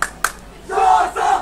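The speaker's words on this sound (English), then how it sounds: "The Joseph's crowd has finally woken up." St Joseph's school supporters at a rugby match roar in two sustained bursts of crowd cheering, following a couple of sharp shouts at the start, loud and close across the stands.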